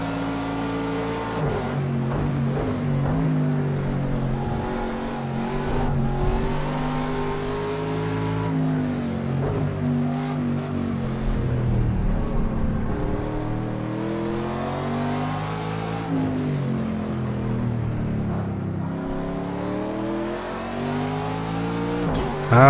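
An Aston Martin Vantage GTE laps the Nordschleife in a racing video game, its engine roaring continuously and loudly, rising and falling through repeated gear changes and revving without pause.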